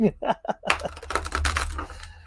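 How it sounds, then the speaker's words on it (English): Tarot cards being shuffled by hand, a close, awkward riffle of papery flicks and rustles running through the whole short stretch, with a low background hum and no speech. "Can't even shuffle the deck."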